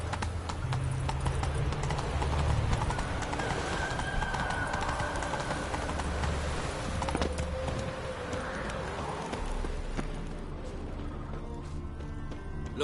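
Roach, Geralt's horse in The Witcher 3, gallops with a steady clip-clop of hooves under dense game audio and background music, continuous and mid-loud throughout, with a brief whinny-like tone.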